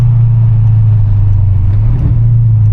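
A blacked-out Mercedes cruises through the streets at 2 AM, heard from inside as a loud, steady low engine hum and road rumble with no talking.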